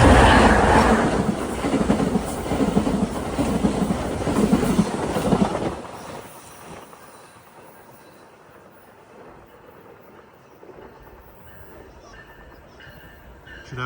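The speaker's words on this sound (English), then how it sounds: "approaching eastbound at 141 is via train 644, Toronto to Ottawa. He doesn't stop. He's got Siemens equipment." VIA Rail train 644, a Toronto-to-Ottawa express with Siemens equipment, roars past eastbound without stopping, loud clattering rumble for about six seconds before fading abruptly to quiet ambient noise.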